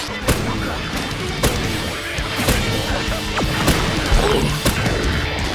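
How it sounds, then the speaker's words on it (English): Glass shotgun in the video game Slayers X firing broken glass: a series of sharp, loud crashing shots at irregular intervals over busy game sound, each with a bright smashing burst. "Then we got my favorite gun, the glass shotgun."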